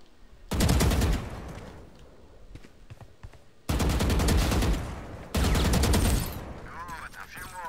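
Gunfire at bots in Valorant comes in three loud rapid-fire bursts separated by short quiet gaps, close and punchy, with a voice speaking faintly between the bursts.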